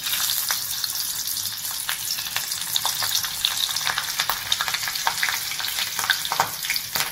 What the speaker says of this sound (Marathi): ही आपली मिरची तळून झाली आहे